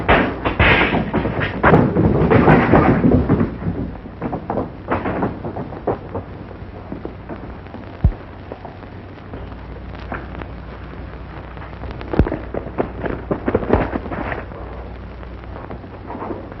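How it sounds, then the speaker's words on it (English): An explosion at a town express office in a western film booms heavily and rumbles for a few seconds, then fades into scattered thuds and faint noise. "Sound like an explosion."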